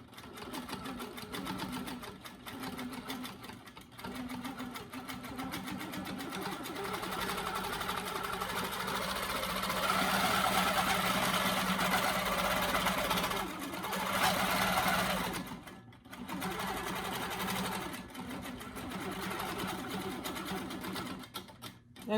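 A longarm quilting machine stitches along drawn lines on a wall hanging, a fast steady needle chatter that rises and falls with motor speed and pauses briefly a couple of times.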